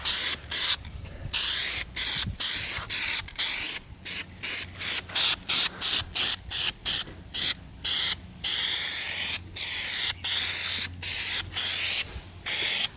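A spray can sprays primer onto car trim in about two dozen short, sharp hissing bursts separated by brief pauses, some quick and some held longer, close and loud with no talking.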